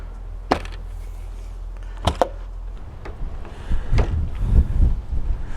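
Gusty wind buffets the microphone outdoors beside a VW T5 camper van, a low rumbling roar punctuated by a couple of sharp clacks and rising into stronger gusts toward the end.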